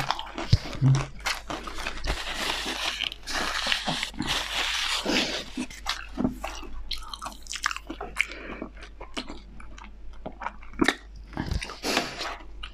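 Close, crisp crunches and wet chewing as a crunchy jumbo spring roll is bitten and eaten, repeated bites over a quiet background.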